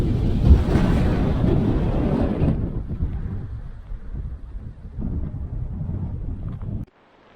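Wind gusts buffet a microphone on a Santorini hillside, a loud roaring rush at first that eases into a lower, steadier blowing before cutting off abruptly, with no voices.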